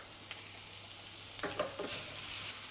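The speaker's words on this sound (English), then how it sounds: "Before I do that, I'm just going to stir the beef." Ground beef frying in a pan gets stirred with a spoon: a faint background sizzle, then a brief cluster of scraping, clattering strokes near the end.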